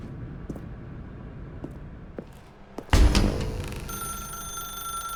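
A telephone rings in The Stanley Parable, a bright trilling ring that cuts in suddenly midway after quiet footsteps and soft knocks, then rings on steadily.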